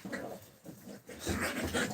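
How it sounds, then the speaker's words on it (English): Several puppies whimper, yelp and pant in the background of a house, in scattered bursts of varying loudness across the moment. "You'll probably hear the puppies in the background."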